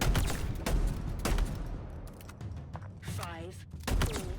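Shotgun blasts from Halo Infinite gameplay, several loud booming shots spaced about half a second apart over steady game background noise, with a whooshing warble near the end.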